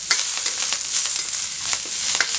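Cut garlic cloves frying in hot oil for Tamil curry leaf kulambu, a close, steady sizzle with small crackles and pops throughout.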